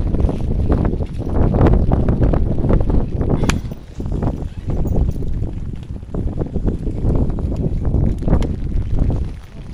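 Strong wind blowing outdoors on a walk, a loud continuous buffeting rumble against the microphone that gusts and dips throughout.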